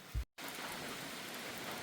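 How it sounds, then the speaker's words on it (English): Steady, moderate rain falls outside a trail privy on the Appalachian Trail in North Carolina, a soft, even hiss heard from inside the shelter, broken once by a brief thump and a moment of near silence. "But it's raining, but it's not raining hard"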